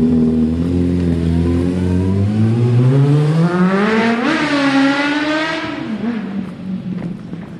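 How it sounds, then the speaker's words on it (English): Suzuki Bandit 600 motorcycle ridden at full power on a test ride, its engine revving up loudly through rising pitch, then fading as the bike pulls away into the distance. "Charlie's going for a test ride on Gary bike with a full power."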